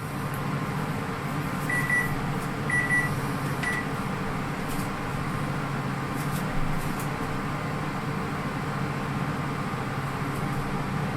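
A kitchen timer beeps a few short, high electronic tones in quick succession while cast iron waffles cook, set against a steady hum of background noise.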